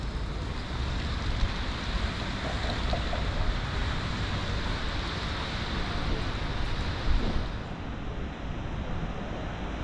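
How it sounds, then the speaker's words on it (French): Heavy rain pours during a thunderstorm in Sidi Bel Abbes, Algeria, a steady wash of downpour with a brief low rumble late on. "parce que j'entends toujours l'orage."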